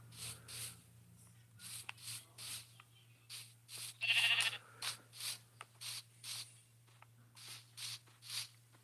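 Sheep in a hardcore survival video game bleat repeatedly, short nasal calls in an uneven rhythm over a steady low hum, fairly faint and with no talking.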